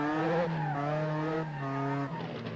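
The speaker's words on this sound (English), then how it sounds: "We were driving the Austin Healey Sprite car, Sprint Edition, I think it said it was." An Austin Healey Sprite, Sprint Edition, is driven around Bathurst in Assetto Corsa. Its loud, buzzy small-engine note climbs and drops with each gear change, and the tyres faintly scrub underneath.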